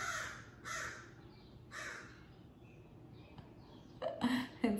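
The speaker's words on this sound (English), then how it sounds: "Sorry, there's a crow." A crow caws outdoors, several harsh rasping calls at fairly even intervals, moderately near and clear against a quiet background, ending in a couple of quicker louder caws.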